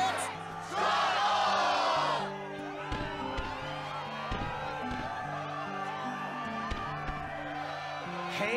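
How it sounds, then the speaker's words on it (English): A game crowd roars and cheers in a short, loud burst during the Struggle tournament in Kingdom Hearts II, then quiets as background music with sharp percussive hits continues. "Yes, the crowd is fired up, so you know what comes next."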